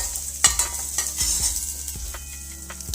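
Curry leaves sizzle in a pan for a village-style tomato rasam, with a steady frying hiss and several sharp taps of a spoon stirring against the pan.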